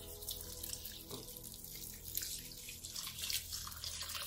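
About 28 ounces of chicken stock pours into a crock-pot for white chili, a steady close liquid splash and trickle running the whole time with no voices.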